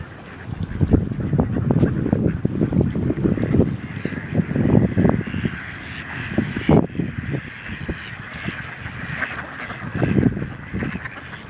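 Geese and ducks honk and quack in a busy cluster close by during bird feeding, with a continuous jumble of calls over about eleven seconds.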